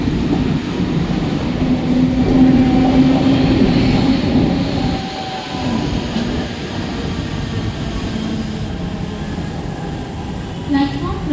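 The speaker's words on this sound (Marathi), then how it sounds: "new local for Dombivli is arriving shortly on" A Mumbai local train pulls into a station platform with a steady heavy rumble and rolling rail noise. The sound eases slightly midway, and a station announcement voice can be heard in the background.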